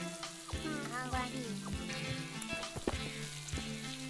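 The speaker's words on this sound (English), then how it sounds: "I love hearing the grape sizzle." Grapes fry in a pan in the video game Rhell, a close, continuous sizzle with faint stirring clicks and small pops throughout.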